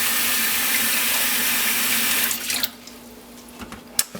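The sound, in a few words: water filling a vacuum bottle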